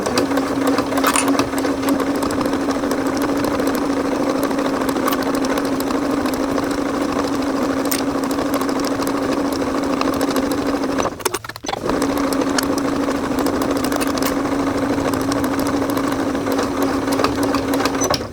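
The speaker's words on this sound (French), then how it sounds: "Et là je pique tout le tour à 1 cm du bord." A sewing machine stitches steadily around the edge of fabric, 1 cm from the border, with a continuous close mechanical whirr and one brief pause near the end.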